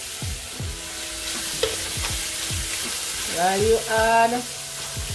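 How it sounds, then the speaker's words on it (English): Chicken chow mein sizzles in a pan as it is stirred, with repeated scraping strokes over a constant close hiss and a brief spoken phrase. "I'll give it a stir."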